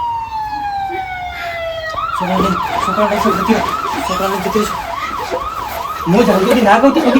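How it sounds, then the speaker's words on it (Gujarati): A police car siren wails, sweeping up and down in rapid repeating cycles, loud and close, after a descending tone at the start. "પોલીસની ગાડીનો અવાજ આવે"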